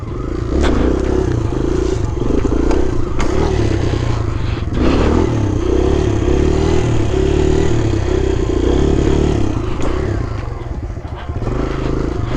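A 2023 Kawasaki KLX 110 pit bike rides in a circle, its small single-cylinder engine buzzing loudly and continuously up close with slight rises and dips in revs and some clattering.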